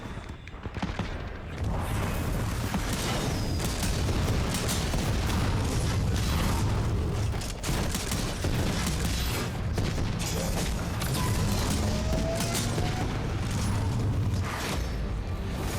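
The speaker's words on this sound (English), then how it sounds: "An enemy Titan exploding. My favorite sound." An enemy Titan exploding in a video game, a dense, sustained roar of booms, crackling debris and mechanical rumble that stays loud and continuous throughout.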